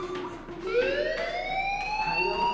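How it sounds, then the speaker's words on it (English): A school fire alarm in the game Life is Strange wails steadily with rising, sweeping siren tones that fill the whole stretch at a constant, fairly loud level. "do you hear that fire alarm? That means you should be outside."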